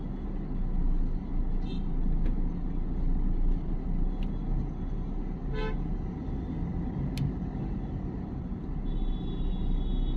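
Busy Hyderabad road traffic heard from inside a moving vehicle: a steady low engine and road rumble with scattered short horn toots, some distant, continuing throughout.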